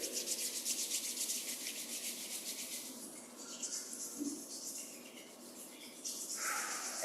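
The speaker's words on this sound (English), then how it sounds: "rubbing the palms together" Palms of the hands rubbing together in a quiet qigong self-massage setting, a soft, steady brushing friction that runs for a few seconds, eases off, then returns near the end.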